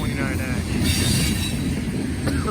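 A grain train rolls past close by on the rails with a loud, steady roar of wheels and cars, a faint squeal from the wheels on top.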